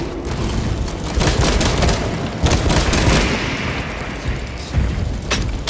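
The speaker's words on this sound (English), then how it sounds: "Now there's six more melting gunshots." Loud, booming gunfire from the video game Space Marine 2 bursts repeatedly in a chaotic barrage, with sharp cracks layered over a dense rumble, no voices.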